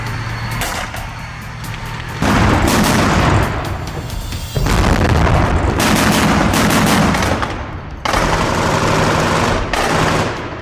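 Tank fire and explosions pounding defensive positions in a combat zone, heavy broadband booms and sustained loud blasts in several bursts of a few seconds each, close and dominant with no clear voices.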